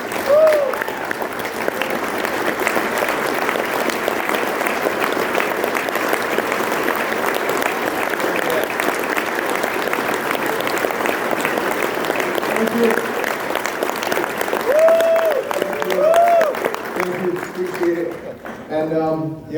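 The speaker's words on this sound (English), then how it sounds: "I guess you already gave me a nice round of applause." Sustained audience applause welcoming Jocko Willink to the stage at the NAFIC 2021 conference, a steady wash of many hands clapping that runs nearly twenty seconds before fading out at the end.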